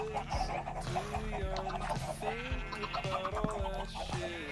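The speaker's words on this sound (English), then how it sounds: "Why does the chicken keep spraying everywhere?" Chickens in a block-building video game cluck repeatedly in a busy, layered chorus of short calls over a steady background.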